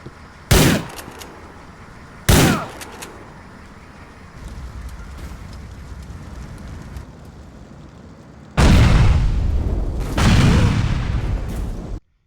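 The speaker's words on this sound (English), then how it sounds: "he decided to retreat behind a tree just before the vehicles blew up" Loud vehicle explosions burst out in GTA IV, two sharp blasts early, then a longer roaring detonation followed by another, over a steady background rumble.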